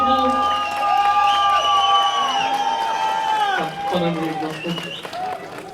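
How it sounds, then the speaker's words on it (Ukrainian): A crowd gathered in Odesa applauds and cheers as negotiators emerge, loud clapping mixed with shouting voices and sustained calls, close and continuous throughout. "По завершенні перемовників привітали оплесками"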